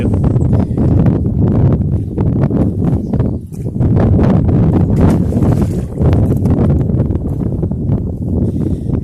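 Strong wind buffets the microphone in a loud, steady roar with gusting surges while bass fishing from a rock in Newport Harbor's Back Bay, casting straight into the wind.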